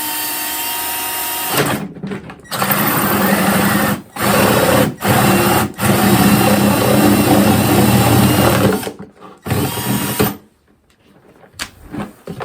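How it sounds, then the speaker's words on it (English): A power drill whirs loudly and close by, drilling a hole in a metal ammo can, running in several bursts that stop and restart before the motor winds down. "you're just gonna drill your hole"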